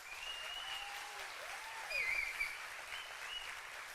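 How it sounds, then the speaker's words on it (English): Applause from the audience at a school steel band spring concert, a steady moderate clapping wash with a few whistles or cheers rising above it, sustained throughout. "Let's give them a round of applause one more time."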